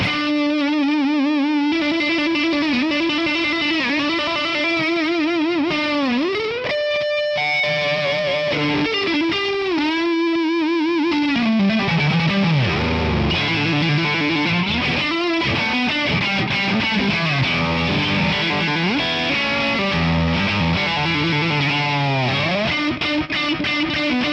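Electric guitar fitted with a vintage-style tremolo bar, played with a distorted effects tone: sustained notes and chords repeatedly waver and dive in pitch, then spring back, over a couple dozen seconds of solo playing.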